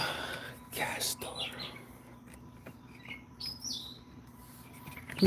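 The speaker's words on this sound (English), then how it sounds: "Listen to these birds. Aren't they just beautiful sounding?" Birds singing outdoors near a house with cows around, giving scattered short chirps and tweets fairly close by, mixed with soft whispered talk and brief bumps.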